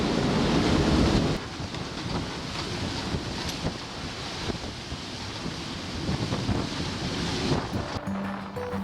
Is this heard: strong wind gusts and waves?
yes